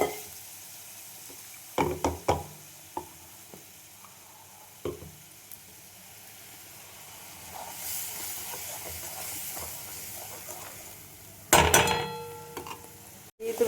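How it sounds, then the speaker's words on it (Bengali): Cumin seeds tipped into hot oil for a soybean curry give a soft hissing sizzle that swells and fades, alongside a few scattered clicks and clatters of cookware nearby. "এখানে দিয়ে দিলাম জিরে ফোড়ন, ওই তেলের মধ্যেই দিয়ে দিলাম"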